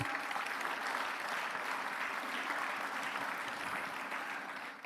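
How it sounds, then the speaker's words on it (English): Graduation ceremony crowd at Lagos Business School warmly applauding the academic director as she walks to the stage, continuous even clapping from a large hall that fades slightly at the end. "Let's give her a warm round of applause as she comes."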